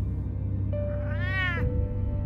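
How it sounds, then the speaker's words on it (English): A cat in Batman: The Telltale Series lets out one drawn-out, wavering meow, clear and close over a low game background hum. "Catwoman has an ugly cat."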